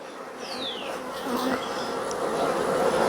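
Honey bees buzzing steadily inside a hive box packed with honey and nectar, a close, continuous drone with a single bee passing by near the start.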